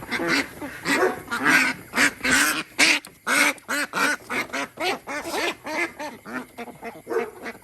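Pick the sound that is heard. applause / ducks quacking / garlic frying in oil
ducks quacking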